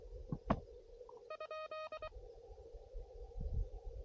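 A short burst of Morse code beeps, quick clipped tones repeating in a brief pattern over faint radio hiss, with a couple of soft clicks.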